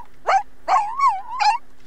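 A dog barks in The Sims 4, three short yelping barks spaced across the moment, the middle one drawn out into a wavering whine, close and clear with no talking over it.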